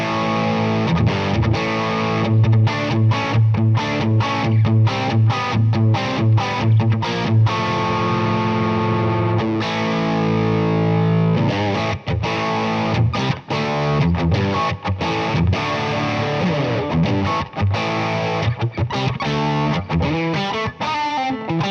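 Electric guitar runs through a Boss IR-2 amp pedal with a Blues Driver pedal in a clean setting, played loud and alone with ringing chords and single-note phrases that sustain with a light edge.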